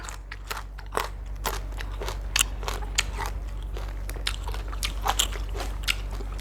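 Close crunchy chewing and biting on sweet snails eaten with fresh vegetables, a quick irregular series of crisp crackles with no talk.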